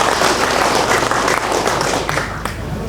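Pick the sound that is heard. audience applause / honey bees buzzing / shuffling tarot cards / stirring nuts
audience applause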